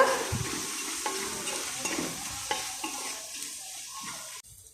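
A spoon stirs a spiced mixture with coriander powder in a pan, repeated scraping strokes over a gentle sizzle, close by, ending abruptly.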